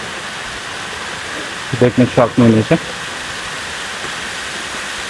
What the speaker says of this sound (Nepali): चारैपट्टि यो पानी ओभरफ्लो भएर चाहिँ एउटा सुन्दर झरना बनिया छ